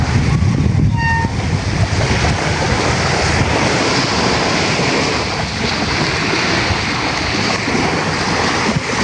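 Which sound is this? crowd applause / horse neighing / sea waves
sea waves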